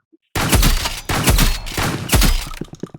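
Rapid bursts of gunfire in the Roblox game Rivals, loud and close, firing in several sustained volleys separated by brief gaps, then trailing off into a few scattered sharp shots at the end.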